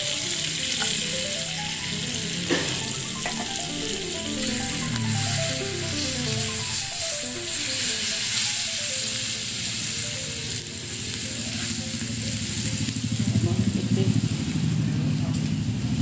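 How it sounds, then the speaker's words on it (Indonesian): Garlic sizzles in melted butter in a pan, a steady close frying hiss with occasional stirring scrapes, while a voice talks over it throughout. "setelah butternya mencair, kita masukkan bawang putihnya"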